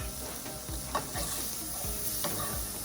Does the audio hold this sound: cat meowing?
no